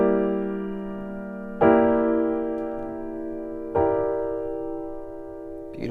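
An E half-diminished chord, a full sustained harmonic stack struck three times at slow intervals, each attack ringing and slowly decaying, close and clear with no voices.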